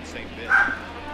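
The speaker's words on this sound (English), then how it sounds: "Excuse my dog, y'all." A pet dog named Gizmo lets out a single short bark, muffled and mid-distance, over a steady background hum during a baseball video game session.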